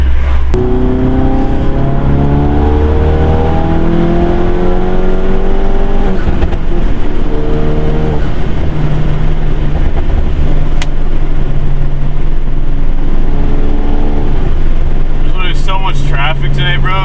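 A 350HP Mk7 GTI on a snowy Vermont mountain highway pulls hard through the gears, its engine note climbing and dropping with each shift, loud and continuous inside the cabin with tire and road roar throughout.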